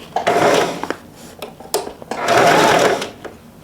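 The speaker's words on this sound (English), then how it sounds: "we're gonna sew all 4 corners up like this, including the lining piece" A sewing machine stitches the corners of a vinyl grocery bag and its lining in two loud, close bursts, with brief rustles and handling noises in the pause between them.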